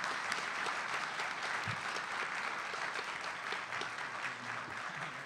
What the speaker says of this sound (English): give a round of applause to the folks up here